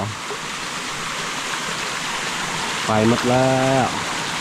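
A rain-swollen mountain stream rushes in a continuous loud wash during morning rain, and a voice speaks briefly near the end over the water.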